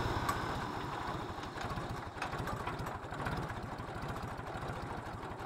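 An old tractor engine idling steadily after being started, a close, even low chugging with a rapid regular firing pulse and no talk over it.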